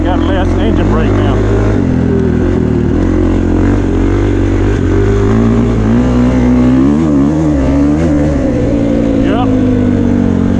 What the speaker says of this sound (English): Engine brake now.